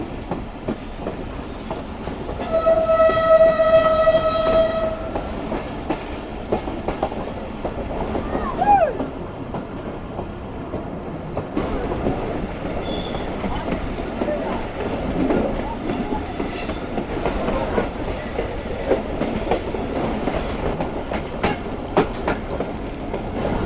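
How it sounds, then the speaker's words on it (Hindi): A passenger train on the Larkana to Kotri line in Pakistan rolls along with a steady rumble and rhythmic wheel clatter, heard from inside. An early horn sounds with a loud sustained tone, and faint voices come and go. "और अब रोड ट्रैफिक से रेस लगाती हुई ट्रेन हमारी आगे बढ़ रही है।"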